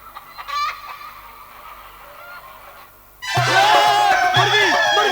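A hen clucks and squawks in loud, agitated bursts while being chased, following a quieter stretch of rustling with faint voices.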